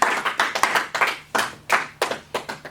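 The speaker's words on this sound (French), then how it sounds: "Acclamons très fort pour le Seigneur" A church congregation clapping together in worship, about a dozen sharp, fairly even hand claps in a steady rhythm, close and moderately loud, with no cheering or voices audible.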